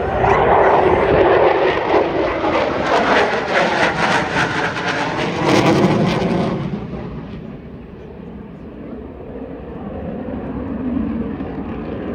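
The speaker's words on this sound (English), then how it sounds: "this F-16 as he begins to pull the gear up. Push the throttles forward to afterburner." An F-16 fighter jet takes off on full afterburner at an air show, a loud, continuous roar that swells and then fades somewhat as the jet climbs away, with no talk over it.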